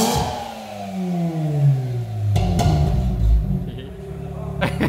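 A Mazda RX8 rotary engine, modified with a new exhaust line, revs steadily and loudly, with rising and falling engine tones and a few sharp pops near the end.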